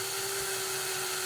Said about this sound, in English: you apply a drill to a rivet.